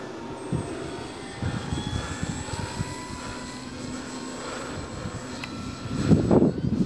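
A Dynam Beaver RC model plane does a flaps-down touch and go, its electric motor a thin, steady whine at moderate distance over outdoor background noise, rising slightly toward the end.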